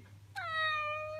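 A person imitates a cat with a single drawn-out, close meow that starts abruptly and slowly falls in pitch, heard on its own with no other talk.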